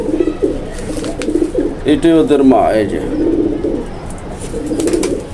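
Low, rolling pigeon coos repeat close by, with a person talking over them partway through.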